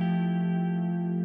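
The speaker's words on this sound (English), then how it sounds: "And then it sounds like this chorus" A sustained electric guitar chord rings steadily through a guitar pedal set to a chorus-like modulated reverb, its shimmering layered tone holding at an even level throughout with no voices.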